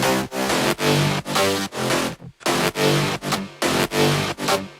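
Layered growl bass synths in an FL Studio remake of a house track play in loud, rhythmic stabs, each broad buzzing note cut off by short gaps with no voices.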